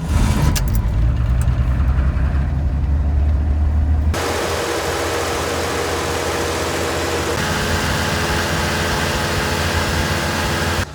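A 1986 Ford F150 cold-starts with a loud, rough cranking rumble that catches, then settles into a steady, close idle that runs on evenly to the end.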